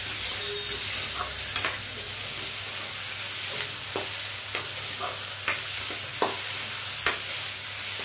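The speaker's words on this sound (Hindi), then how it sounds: "इसे हम डालेंगे खड़े मसाले और खड़े मसाले को भी अच्छे से भूनेंगे" Whole spices frying with browned onions in a pan for a yam (suran) curry, a steady close sizzle broken by scattered clinks and scrapes of stirring, no voices.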